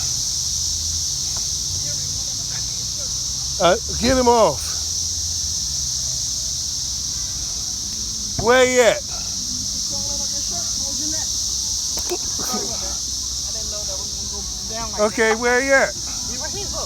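Cicadas in an outdoor setting among trees, including pines, sing as a steady loud high buzzing drone that runs without a break, while a few brief spoken exchanges come and go.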